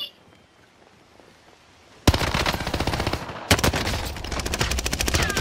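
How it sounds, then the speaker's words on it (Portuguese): Type 100 submachine gun firing in Call of Duty: Warzone, two loud sustained bursts of rapid automatic fire after a quiet start, the second burst following a brief gap. "Que arma é essa? Nossa, me destroçou. Type 100."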